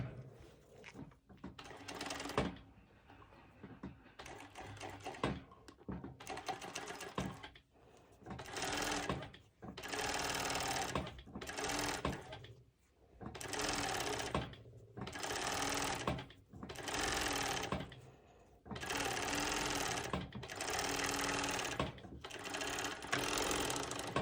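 A sewing machine top stitches the bottom of a garment back piece, running in repeated close bursts of rapid mechanical whirring separated by short pauses, with no talking.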